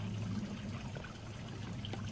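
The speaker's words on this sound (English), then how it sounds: "Here's another water feature" A garden water feature trickles softly and steadily, a faint, continuous dribble of water heard from close by with no other sounds.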